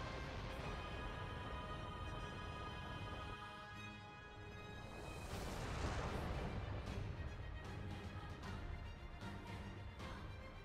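A missile launch in NieR: Automata, a dense roaring blast with booming rumble that swells in the middle and trails off into continued rumbling, with no talking.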